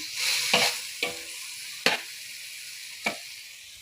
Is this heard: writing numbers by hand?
no